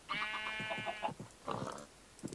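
A sheep in Minecraft gives a loud, wavering bleat, followed by a shorter second bleat and a faint third call, with no talk.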